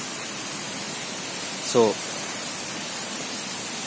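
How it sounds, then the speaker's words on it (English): Mankayam Waterfalls in Kerala, a steady broad roar of falling water heard from a distance, with a brief spoken word over it. "As you can hear the voice of waterfalls, we are just moving towards it."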